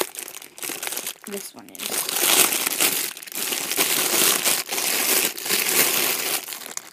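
Crinkly plastic wrapper being pulled and torn off a squishy toy, loud close crackling and crumpling that runs steadily through most of the stretch, with a brief spoken remark near the start.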